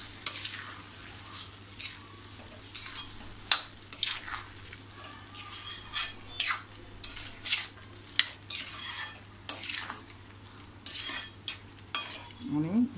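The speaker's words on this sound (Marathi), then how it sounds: "छान अशी ढवळून घेऊया" Carrot halwa with sugar stirred in a pan, repeated close scraping strokes of a spoon against metal in an uneven rhythm over a low steady hum.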